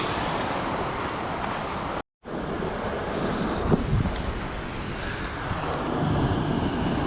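Steady wind and surf rolling onto a beach at Westport, New Zealand, a broad continuous roar with wind buffeting the microphone, briefly cut out by a short gap before resuming.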